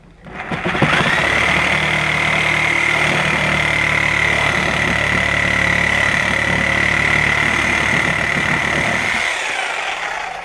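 A Sawzall reciprocating saw cuts the tabs off a wooden gate, a loud, close, steady buzzing rasp that runs for about eight seconds before winding down; no talking.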